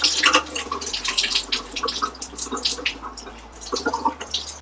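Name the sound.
coolant dripping out during RB20 thermostat install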